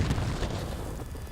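A deep booming blast from a Call of Duty Search and Destroy round start during an esports qualifier match, heavy low rumble up front that decays into a fading roll over about a second, with no voices.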